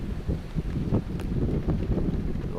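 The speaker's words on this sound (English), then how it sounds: "A little windy down on the Cape" Wind buffets a microphone on Cape Canaveral in low, uneven rumbling gusts, with faint scattered knocks and rustles behind it.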